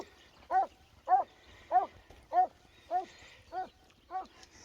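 A treeing walker coonhound bays in a steady rhythm, seven evenly spaced howling barks, fairly close and clear, each with a rising-falling tone.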